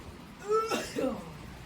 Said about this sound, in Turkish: Abart abart biraz daha öksürsene.